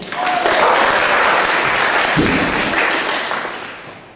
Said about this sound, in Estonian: Lisettele võime aplausi teha